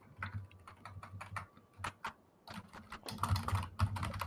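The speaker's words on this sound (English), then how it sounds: "your typing is really, really loud" Keys on a computer keyboard clatter in quick bursts of clicky strokes, pausing briefly around the midpoint before resuming more densely, fairly close and distinct with no voices.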